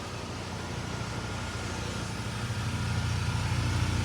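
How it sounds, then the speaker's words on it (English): A big water tanker truck at a pool build site runs steadily while filling the pool, a low, constant engine rumble mixed with hissing flow, growing slightly louder toward the end with no talking. "A big old water tanker truck"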